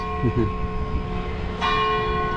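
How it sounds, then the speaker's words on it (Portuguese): A church bell rings the hour with a sustained, resonant toll, followed by a second strike partway through, heard outdoors over faint background noise and voices. "Aqui o sino ainda bate as horas."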